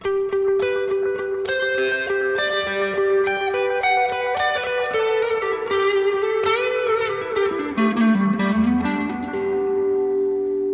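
An electric guitar runs through a Jam Delay Llama Extreme pedal with hall reverb, playing a melodic line whose notes repeat in trailing echoes over a sustained drone, washing continuously and fairly loudly throughout.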